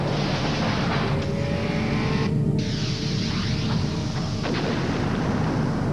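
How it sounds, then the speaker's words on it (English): Rusty Wallace's Miller Genuine Draft stock car races at Martinsville Speedway in 1994, a loud, continuous engine roar with sweeping pass-by pitch shifts as cars thunder past close by. "Miller Genuine Draft Rusty Wallace stock car."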